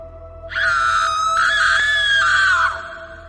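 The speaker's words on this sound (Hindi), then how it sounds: "डायन की चीखें जंगल में गूंज उठती है।" A witch shrieks in a single long, piercing scream lasting about two seconds as a house burns, a horror-story sound effect rising abruptly over a faint steady hum before cutting off.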